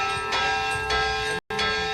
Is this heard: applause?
no